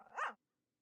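A single short dog bark from The Great Ace Attorney Chronicles 2: Resolve, a clean, close game sound effect lasting under half a second and followed by silence.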